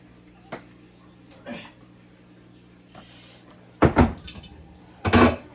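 A cooking pot holding meal-prep proteins is handled in a home kitchen, giving a few sharp, close metallic clanks and knocks separated by quiet pauses.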